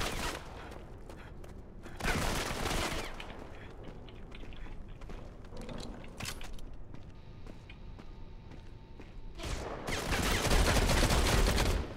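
Bursts of gunfire from a deployed, stationary gun in Modern Combat 5, loud clustered volleys near the start and end with scattered shots and movement noise between, no talk.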